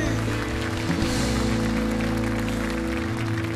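A church congregation at a charismatic worship night claps for Jesus, a steady mass of hands heard over sustained music with tonal instrument lines running underneath the whole time.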